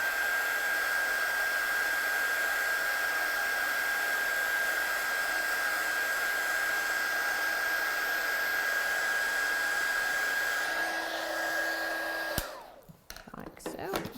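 A hair dryer or heat tool blows a steady, loud whirr over freshly stamped ink on a card, running continuously for about twelve seconds before it cuts off abruptly, followed by a few scattered handling bumps.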